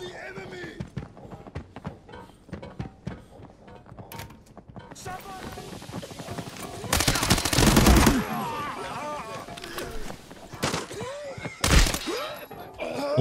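MP5 fire in the Arena Breakout video game: rapid bursts of gunshots, with a couple of loud, sharp volleys standing out over scattered clicks and footsteps.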